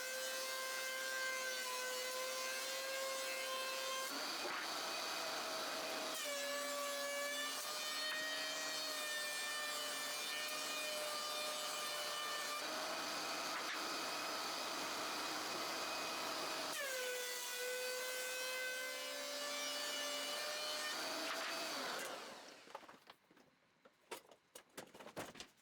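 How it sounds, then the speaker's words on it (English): A power planer smoothing the cut faces of wooden 2x4 boards: a steady loud whining drone in several long passes separated by brief changes in pitch, ending with clatter as the boards are handled. "I plane the boards, just a little bit, so the cut side is nice and smooth"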